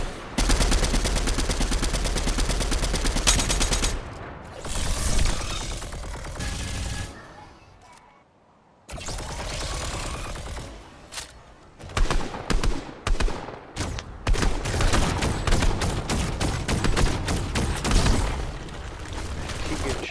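Rapid gunfire in the Fortnite video game, with dense bursts of automatic fire and single shots that cut in and out, one brief lull in the middle, and loud close shots mixed with more distant fire.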